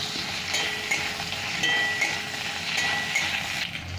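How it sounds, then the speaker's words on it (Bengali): Capsicum and potato pieces fry in a pan for chilli potato, giving a continuous close sizzle with light clinks of a spatula stirring against the metal. "একটু ভেজে নিচ্ছি"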